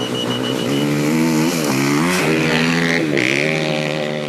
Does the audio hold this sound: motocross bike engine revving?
yes